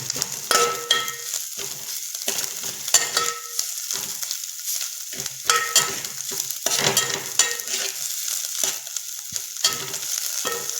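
Ground green chillies, crushed on a grinding stone, fry in a pan with a steady crackling sizzle, punctuated by repeated sharp scrapes and stirs, with no voices.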